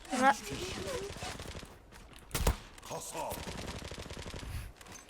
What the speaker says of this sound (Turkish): Şöyle rastgele sıkayım.